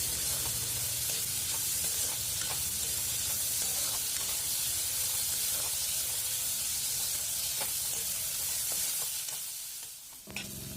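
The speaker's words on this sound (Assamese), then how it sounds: "তাৰপিছত আকৌ ভালদৰে লৰাই ভাজি থাকিম এনেকৈ।" Onions with ginger-garlic paste stir-fry in a pan for an Assamese pork dish, giving a steady, close sizzle and hiss broken by scraping stirs of the spoon, with no talking.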